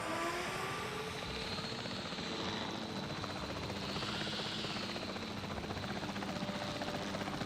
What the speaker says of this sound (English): we finally get the helicopter from the film, in the sense of you see it in obviously Rebirth and Jurassic Park